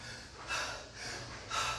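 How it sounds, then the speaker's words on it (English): Heavy breathing comes close and fairly quiet, in three audible breaths spaced about half a second apart, with no talking. "I'm breathing heavy."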